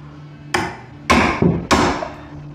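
Three loud hammer blows ring out on a metal bolt set in concrete, evenly spaced about half a second apart, each with a sharp attack and a short ringing decay over a low hum.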